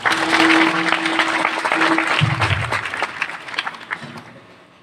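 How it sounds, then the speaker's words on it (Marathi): An audience at a humorous Marathi kirtan claps for the guru, a dense burst of hand clapping that thins out and fades over a few seconds, with faint voices underneath. "यांच्या गुरुजींसाठी टाळी वाजवाय"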